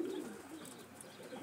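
Pigeons coo close by in a loft near Oradea, low throaty murmurs rolling continuously over a steady background hum.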